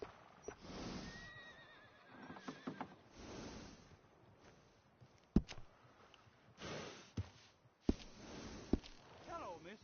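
A horse in Red Dead Redemption 2 gives several close neighs and whinnies with snorts and clip-clopping hooves, the calls rising and falling in short bursts between quieter stretches, with a voice speaking in places.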